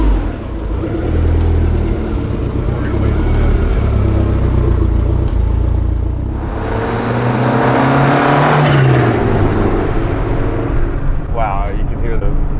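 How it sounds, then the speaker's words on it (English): A 1989 Lancia Delta Integrale 16V, heard from inside on a drive, rumbles loudly and revs up with a rising engine note, its turbo wastegate chattering over a steady low drone; voices talk faintly beneath it. "Wow, you can hear the wastegate, huh?"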